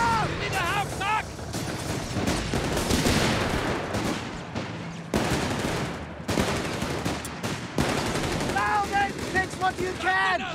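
Chaotic battlefield gunfire in Company of Heroes 3 Afrika Korps multiplayer, with rattling small-arms and machine-gun fire and heavier thumps running nearly throughout, mixed with shouted unit voice lines.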